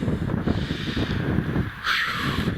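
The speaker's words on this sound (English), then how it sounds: "Very windy." Strong wind buffeting and roaring across the microphone, steady and loud with gusty swells.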